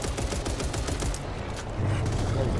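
Rapid gunfire in the video game Back 4 Blood, a dense stream of repeated shots lasting a few seconds, loud and continuous, with no talk.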